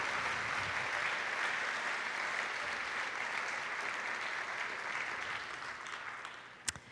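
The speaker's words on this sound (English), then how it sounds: "Let's give a big round of applause for all of these awesome people." Audience applause at the 2014 Miss Hudson Pageant, a steady, dense clapping that carries for several seconds, then thins and fades out near the end with a few last claps.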